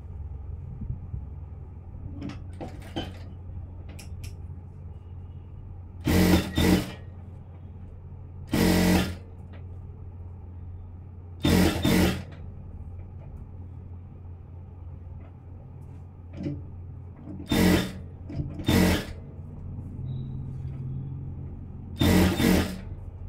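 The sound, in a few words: sewing machine stitching a blouse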